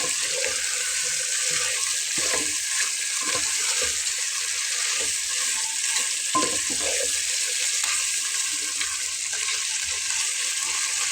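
Chicken pieces frying and being stirred dry in a pan for Bengali-style chicken kosha, a steady close sizzle with occasional scraping and clinks of the spatula throughout.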